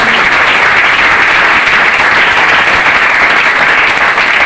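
A church congregation claps for the Lord in a steady, loud, dense roar of applause that carries evenly from start to finish with no voices over it.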